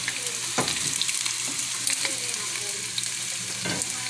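Potatoes browning in a hot pan give a steady, loud frying sizzle with crackling and occasional stirring scrapes throughout, close up and with no talking.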